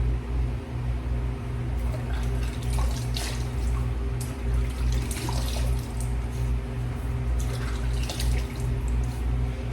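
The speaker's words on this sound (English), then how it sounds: "Nice hot water, both in the shower and at the basin." Hot water runs steadily from a tap into a basin, a continuous close splashing stream with low droning hum beneath and no talk.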